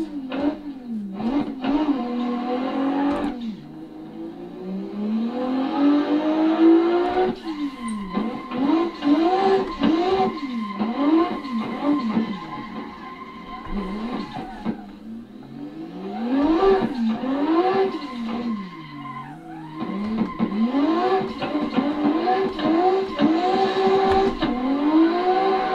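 A car engine in a racing simulator game revs up and down repeatedly, rising and falling in pitch with gear changes and brief pauses, loud and continuous with no talking.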